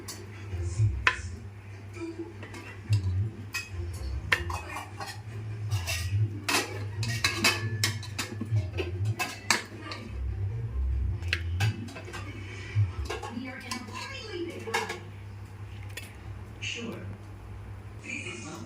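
Chicken pieces are laid one by one into the bottom of a cooking pot for pot biryani, giving soft scattered clinks and taps of metal against the pot, heard under a voice talking throughout.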